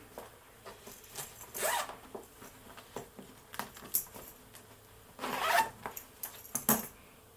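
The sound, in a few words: big zipper on DJI Mavic 3 Cine bag flap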